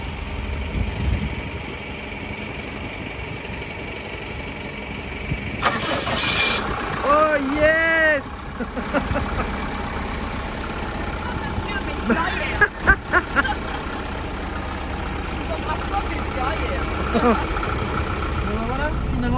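A van engine, after a flat-battery problem, cranks and catches, then settles into a steady low idle heard from nearby while people talk over it and a few knocks and clatters sound.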